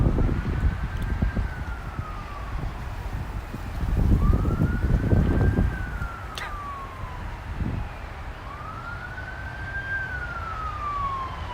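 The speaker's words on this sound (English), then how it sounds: "Is that an ambulance?" An ambulance siren wails in slow rising and falling sweeps along a New York street in Brooklyn at sunset, heard at a distance under wind buffeting and low traffic rumble.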